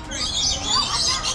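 Several birds chirp and twitter continuously at Busch Gardens theme park, a dense, fairly loud wash of high calls with no clear pauses, heard close and alone.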